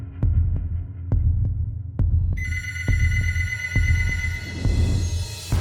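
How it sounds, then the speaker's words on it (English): A telephone starts ringing partway through in an apartment, a bright sustained electronic ring over a steady, heavy heartbeat-like thumping that pulses throughout. "Suddenly, the phone rang, echoing in the apartment."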